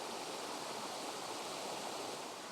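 A small waterfall spills over rocks beside a hiking trail on the Cumberland Trail, making a steady, soft, even rush of falling water with no other sounds.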